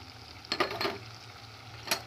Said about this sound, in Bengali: আদা রসুনটাও আমি একটু তেলের সাথে আমি ভালো করে ভেজে নেব